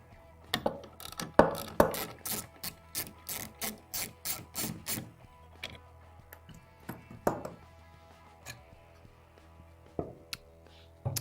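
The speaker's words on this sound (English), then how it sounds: "We're going to take our Torx T25. We're going to remove the mud guard from the base of the rear shock." A Torx T25 driver ratchets repeatedly while backing screws out of the mud guard at the base of a UTV rear shock, with a run of close, sharp clicking bursts followed by sparser clicks.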